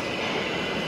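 A train pulls into a station in Asakusa, Tokyo, a dense, steady rumble of wheels and rail noise with a faint squeal, loud and close, with no voices.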